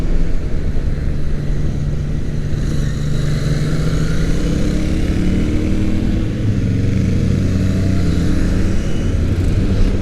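A Royal Enfield Interceptor and a Triumph Trident 660 ride together, their engines droning and rising in pitch as they pick up speed. The sound is loud and steady, heard up close with wind rushing past.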